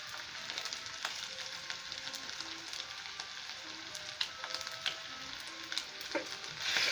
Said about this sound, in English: Yeah, so I'm stirring it for around few seconds.